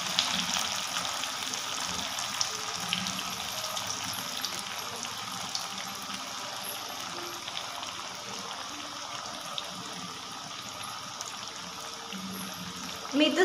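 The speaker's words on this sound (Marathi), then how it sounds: "मी थोड्या थोड्या टाकून थोडं व्यवस्थित तळणार आहे." Coriander vadi pieces deep-frying in oil over a medium flame make a steady, moderately quiet bubbling sizzle that holds evenly throughout. No voices.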